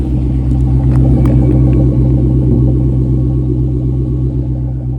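Car idling with a Borla catback exhaust, a deep steady rumble that stays loud and constant throughout, close by with no talking.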